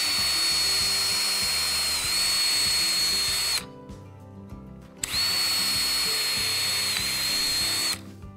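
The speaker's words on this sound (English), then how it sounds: "With this clamped in the vise, it's very easy to locate the drill and drill your holes." A power drill boring holes in a steel horseshoe clamped in a vise, a loud steady whine in two long bursts separated by a short pause, close and without talk.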